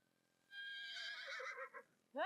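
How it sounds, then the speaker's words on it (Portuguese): A single Senner horse lets out a clear whinny, rising and wavering for about a second before trailing off, followed by a brief sharp snort-like call at the end. "Você sabe identificar o relinchar de um Senner?"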